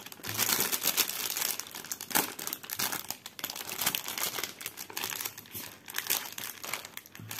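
A plastic pouch crinkles and rustles close up as skeins of black cross-stitch thread are flattened to push out air and packed inside, with irregular crackling bursts throughout.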